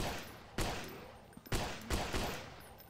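Gunfire from a gun in a Unity zombie video game, several sharp bursts at irregular intervals, loud and close over a low ambient game background, with no talking.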